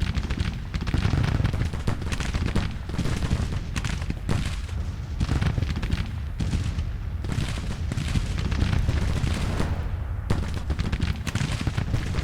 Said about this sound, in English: Seymour's men are now getting hit by artillery, but so far the fire has not started casualties